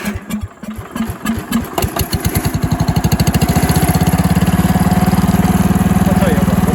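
A Power King tractor engine starts with a rapid chugging beat that speeds up into a loud, steady running drone as it strains against a hickory log.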